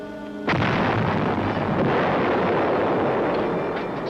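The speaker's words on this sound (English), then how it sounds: "The sound of those explosions, I said they're about 105s" A 105 mm artillery shell explodes with a sudden heavy blast, followed by a long, loud, rumbling roar that slowly fades.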